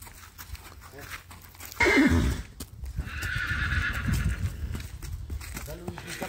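A Sindhi horse gives a short, close whinny, then hooves clip-clop under rustling and someone talking nearby.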